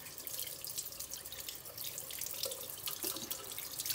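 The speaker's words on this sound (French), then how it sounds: "Et après, on rince. On rince, on rince." Water from a running faucet streams over a deer skull in a sink, a continuous hiss with small splashes and drips, soft and without speech.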